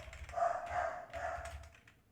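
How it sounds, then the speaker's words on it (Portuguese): A female dog barks repeatedly indoors, a run of mid-pitched yelps and barks at moderate distance. "A minha cadela começou ali agora."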